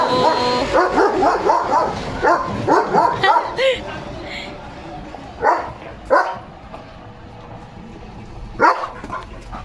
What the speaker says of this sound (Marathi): भुंकतो लिओ